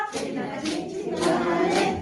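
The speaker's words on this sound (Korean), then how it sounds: "손가락 박수 기관지에 좋아" Finger claps keep a light, regular beat in a group health-clapping game set to a Korean folk chant. The claps are soft and evenly spaced beneath continuous singing voices.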